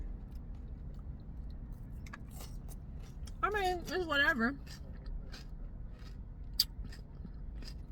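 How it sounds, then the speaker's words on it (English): Someone chews a celery and apple salad with walnuts and Italian parsley, giving soft scattered crunchy clicks close to the mic, with a brief stretch of talking in the middle. "I'm sorry, I'm chewing."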